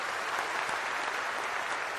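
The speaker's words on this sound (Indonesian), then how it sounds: "tepuk tangan untuk Pak Yulikus" Audience applause for Pak Yulikus at a book event at Istora, a dense steady clapping from a large crowd, moderately loud and continuous throughout with no voices over it.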